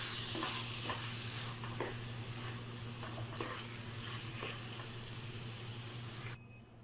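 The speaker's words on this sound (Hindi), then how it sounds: "अभी इसकी 1 से 2 मिनट के लिए भुनाई कर लेंगे" Grated carrot halwa roasting in a pan, a soft continuous sizzle with a spoon scraping and stirring at irregular intervals, fairly quiet and close, cutting off abruptly near the end.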